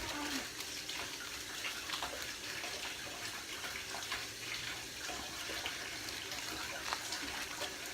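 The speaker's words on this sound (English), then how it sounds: "Go and wash your hand." Tap water runs steadily from a faucet into a sink as someone washes their hands in a home kitchen while making plant-based gingerbread cookies, a constant close splashing hiss with no talking.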